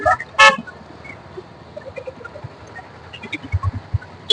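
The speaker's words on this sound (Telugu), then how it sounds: "ఏ ఫుల్ బిజీగా ట్రాఫిక్ అంతా అందులో" A busy street during a temple festival in Nandalur carries a loud, close car horn honk near the start and another at the end, with a faint rumble of traffic and scattered short toots in between.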